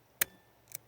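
H&R 622 revolver hammer snapping on a dud .22 round: a sharp metallic click, then a second softer click about half a second later, both close and brief against near silence.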